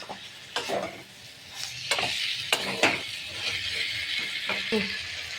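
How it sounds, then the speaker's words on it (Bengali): Cauliflower, potato and spices sizzle in a hot pan while a utensil stirs and scrapes at irregular intervals, close and moderately loud. "দিয়ে এই মশলাটিকে এই সবজির সঙ্গে ভালো করে কষিয়ে নেব।"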